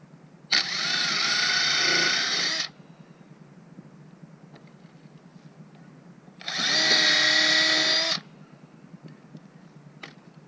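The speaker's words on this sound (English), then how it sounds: "And then I'm going to pre-drill." A power drill pre-drilling a bond beam on a cob wall, two loud bursts of whirring about two seconds each, separated by a quiet pause.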